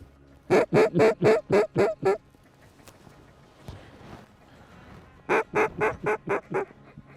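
Mallard ducks calling during a November hunt in South Dakota, two rapid series of six or seven loud descending quacks a few seconds apart, with quiet outdoor background between.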